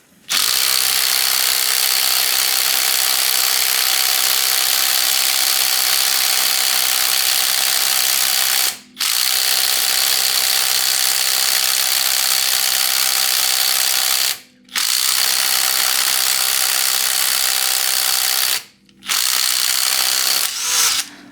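A Parkside Performance PDSSAP 20 B2 cordless impact driver set to maximum torque hammers at wheel lugs, loud and continuous, in four long bursts split by three brief pauses.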